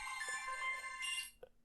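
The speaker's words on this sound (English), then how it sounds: "There goes the phone." A phone rings in a quiet room, a short electronic tone burst with bright harmonics lasting about a second, followed by a brief click.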